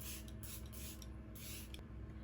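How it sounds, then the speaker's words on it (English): A Kosas Plump and Juicy facial spray mists in several short, soft hissing bursts, close and quiet, with brief pauses between pumps. "I'm gonna use the Kosas Plump and Juicy Spray"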